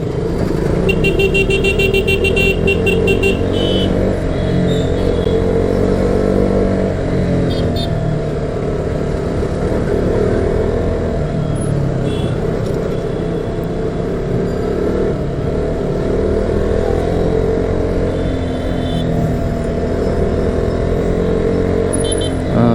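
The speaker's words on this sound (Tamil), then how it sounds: "இங்கே கொஞ்சம் டிராஃபிக் இருக்குது." Busy road traffic in Arakkonam, Tamil Nadu, with a continuous loud rumble of cars and motorcycles, engines revving and horns tooting repeatedly, some close by.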